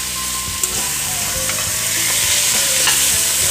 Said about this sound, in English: I'm gonna get these all browned up